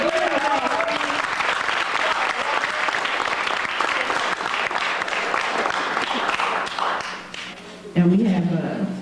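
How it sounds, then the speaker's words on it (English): An audience applauds poets at a spring 2001 writers' reading: a dense, sustained wash of clapping running throughout, with voices briefly audible at the start and again near the end. "let's give these poets a round of applause"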